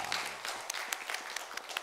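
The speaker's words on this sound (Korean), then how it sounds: "하나님께 영광의 박수 올려드리겠습니다" A church congregation applauding indoors, a steady patter of many hands clapping at moderate volume, heard briefly without talk.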